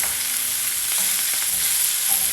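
Ingredients including leaves frying in a pan, stirred over a constant loud hiss of sizzling oil, with a few faint scraping taps beneath; no talking.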